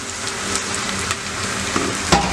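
Garlic and green chillies fry in hot oil for a fish pickle, giving a loud, steady sizzle close up, with a brief clatter of stirring near the end.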